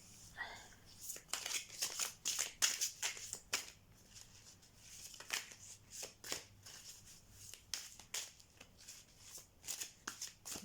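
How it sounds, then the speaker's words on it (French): Illuminati tarot cards are riffled and shuffled by hand in repeated crisp flurries of papery snaps, close and quiet. "J'adore mélanger les cartes."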